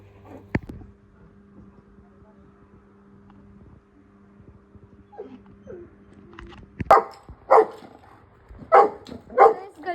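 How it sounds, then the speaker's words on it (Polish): A quiet stretch with a few faint noises, then a dog barks several times close by in quick bursts near the end. "To mój pies."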